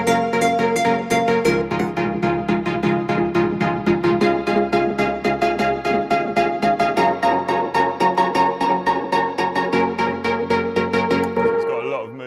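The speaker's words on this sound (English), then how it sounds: "I've put this LFO on, and it basically is over the entire bus with all the music" Drum and bass music bus with an LFO tool and reverb applied, a dense synth chord progression pulsing rhythmically in a steady throb, loud and continuous with a reverb tail.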